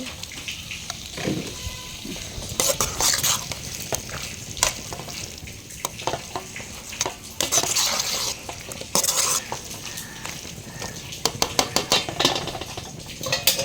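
A spoon scrapes and stirs palm fruit pulp curry around a sizzling pan, with irregular clinks and scraping strokes over a soft frying hiss.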